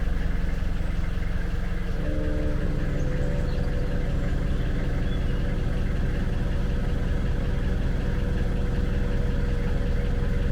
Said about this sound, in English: but Lee, lift up the back. Let's get it out.